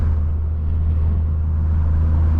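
A stage 2 tuned BMW M340i rumbles steadily from the cabin while cruising, a loud, even low engine drone with road noise and no talk.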